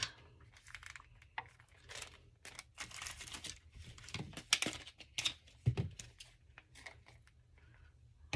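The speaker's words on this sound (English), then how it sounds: "Sorry about the crinkling" An acetate sheet being cut and handled makes close, quiet crinkling and crackling in irregular bursts, with sharp little snips among them and no talk.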